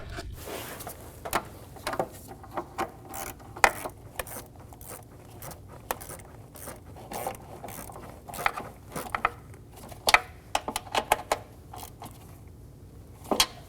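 Rapid, uneven clicking of a ratchet turning intake manifold nuts on a 2008-2015 Scion xB 2.4L four-cylinder, close and crisp in irregular bursts, with metallic taps and handling noises between strokes.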